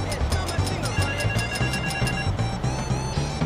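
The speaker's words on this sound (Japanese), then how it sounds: "電話出ますか。" A phone rings in GTA 5 Online, a bright electronic ringtone pulsing in quick repeated bursts over a low game backdrop, loud and close.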